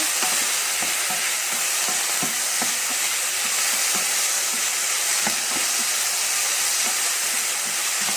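Minced beef with sliced tomatoes fries loudly in a pan, a constant close sizzle and hiss broken by regular scraping knocks of a utensil stirring the mixture.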